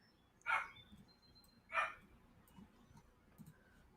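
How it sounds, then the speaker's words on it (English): Two short barks from a dog, a little way off, spaced about a second apart, with a low background murmur between them. "Listen to the serene sounds of dogs barking"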